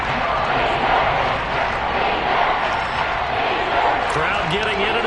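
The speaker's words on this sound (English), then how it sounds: "Crowd getting in it a bit already." Stadium crowd cheering in Madden 23 during a Bengals vs Chiefs AFC Championship game, a dense continuous roar of many voices filling the space with no single standout call.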